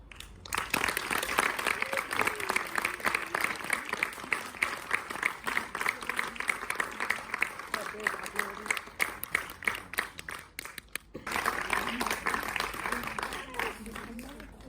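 Steady applause from an audience greeting soprano Françoise Méry before she sings an aria from Mozart's Marriage of Figaro, dense clapping sustained for most of the stretch with a brief dip near the end before resuming.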